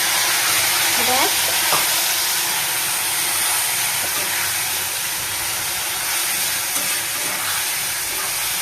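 Masala spice paste with turmeric and chopped tomato fries steadily in a pan alongside potatoes, making a loud continuous sizzle with occasional stirring scrapes.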